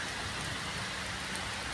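Cold-season rain falls steadily outdoors, a dense, even hiss of drops that fills the short stretch without pause or voices.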